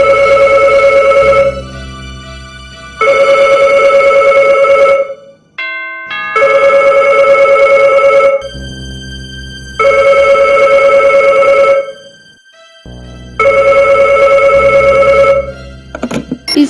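A telephone rings loudly in repeated double bursts with short silent gaps between them, a clear electronic bell tone close up.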